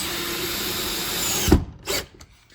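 A power drill drives screws into the wooden frame of a Hehr jalousie window during a restoration, whirring steadily at close range, then stopping, followed by a couple of brief bursts.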